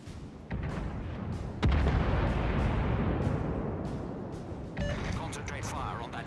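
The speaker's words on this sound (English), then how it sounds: "Her guns aren't accurate, but she has 12 of them, so it's okay. Very American shooting." Warship main guns fire in a naval video game as a heavy booming salvo with a long rumbling tail, followed by further distant thuds, while someone talks over it.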